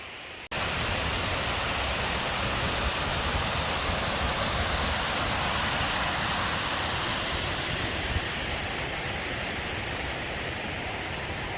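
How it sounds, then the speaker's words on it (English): Broad, continuous rush of a waterfall partway up a steep mountain hike in the Scottish Highlands, loud and steady throughout with no voices. "Probably about halfway up, and there's this gorgeous waterfall."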